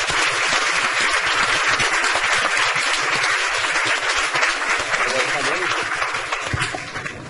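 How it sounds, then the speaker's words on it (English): Council meeting audience applauding the Volunteer Ambulance Corps of Teaneck Township, a steady dense round of clapping throughout that tapers slightly toward the end. "Let's give them a round of applause."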